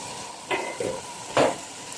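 Masala for an aloo baingan sabzi sizzles in a pan as it is stirred, a few short scraping, hissing bursts over a low steady fry, near and moderately quiet.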